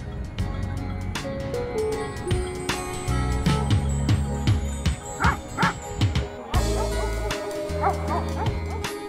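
A livestock guardian dog barks near its flock, with several deep, loud barks in an uneven burst that stands out against steady background noise.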